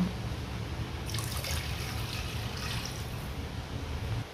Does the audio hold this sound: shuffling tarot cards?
no